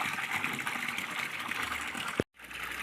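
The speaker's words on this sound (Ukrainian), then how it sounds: "А як вже води стає менше, то геть слабенько дюрчить." Well water runs in a weak stream into a tub, a steady close gush and trickle that breaks off in one brief gap before carrying on.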